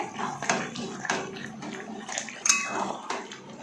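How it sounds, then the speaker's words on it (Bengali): A spoon scrapes and knocks against a pot as chicken curry is stirred, with irregular clanks over a soft, wet background. "আমাদের চিকেন চাপটা শেষের পথে, তো নাড়িয়ে চাড়িয়ে নেওয়া হচ্ছে।"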